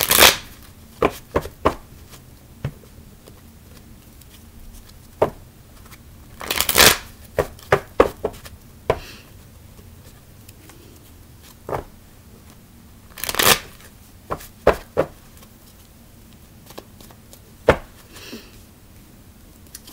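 Tarot cards shuffled by hand in sharp, irregular riffling bursts and taps, close and fairly loud, with quiet gaps between handfuls and no talking.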